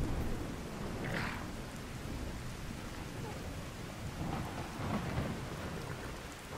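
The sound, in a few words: thunder and rain in the video game Skyrim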